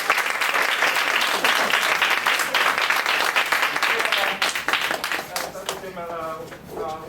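Warm applause from a classroom audience welcoming a Nobel laureate to a lecture at Taipei Tech, sustained dense clapping that thins toward the end as a voice begins speaking.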